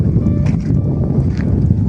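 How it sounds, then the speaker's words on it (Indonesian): Wind and rain batter a fishing spot by the sea in December as the tide rises, a loud, steady, rough roar of gusts and rainfall filling the scene without a break. "Hujan, angin, sama air laut pasang."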